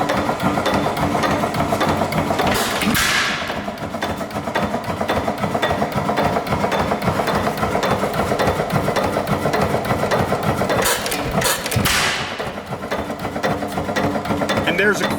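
A Dempster 8HP Grain Dealer's Special stationary engine runs steadily on first start-up, giving a continuous mechanical clatter with a rapid, even rhythm, loud and close, with two brief hissing bursts partway through.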